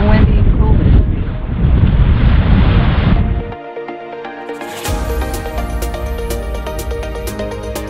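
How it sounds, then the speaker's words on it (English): Wind buffeting the microphone at the top of a trail above Moraine Lake on a cool day, a loud rushing roar for about three seconds that drops away, then a softer, steady hum with faint tonal layers. "A little windy and cool, but it's beautiful."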